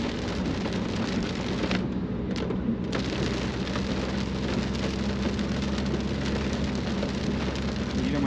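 Steady rain falls during a driving lesson, a constant dense hiss of drops heard from inside or near a car, even and moderately quiet throughout with no voices.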